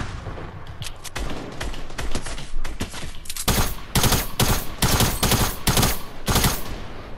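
Rapid automatic gunfire in a shooter video game, the player firing at a distant target with a tactical SMG: loud continuous bursts of shots that grow denser and heavier partway through.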